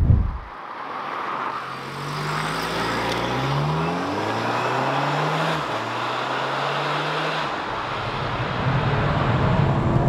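A VW MK5 Golf GTI Estate engine starts with a sharp crank, settles into idle, then revs and pulls away through several rising gear sweeps, loud and close with no talk.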